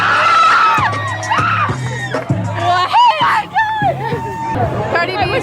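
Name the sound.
woman screaming on seeing Cardi B at LA Pride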